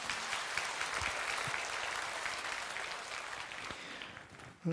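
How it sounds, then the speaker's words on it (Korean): A church congregation applauds during a Sunday worship service, broad crowd clapping that holds steady before tapering and cutting off abruptly at the end. "다시 한번 박수와 함께 영광을 돌려드리겠습니다."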